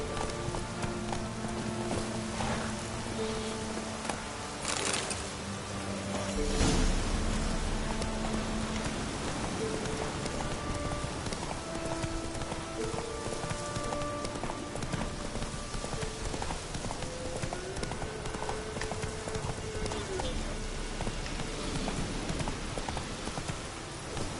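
Horse galloping through rain in The Witcher 3, a steady clip-clop of hooves running beneath a wash of rain and game music, with brief vocal sounds here and there.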